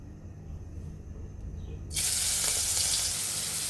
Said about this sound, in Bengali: আমাদের তেলটা গরম হয়ে গিয়েছে এখন আমরা চিংড়ি মাছগুলো দিয়ে দিব